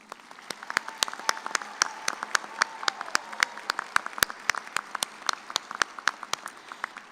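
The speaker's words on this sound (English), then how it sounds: "Please recognize these individuals with a round of applause." Thin, scattered applause at an engineering commencement ceremony, a handful of distinct claps ringing out in an irregular patter over a soft background murmur, fairly quiet overall.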